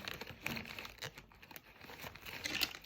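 A plastic bag from an Arduino starter kit being pulled open, a faint, continuous crinkling and rustling of thin plastic with small crackling peaks, close by and without talk.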